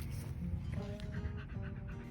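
A Shiba Inu pants rapidly and steadily at close range during a training session, the breathy rhythm continuous throughout.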